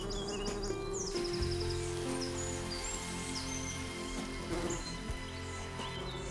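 A honeybee forager buzzes near the hive, a low droning hum running steadily throughout, with faint high chirps from birds scattered in the background.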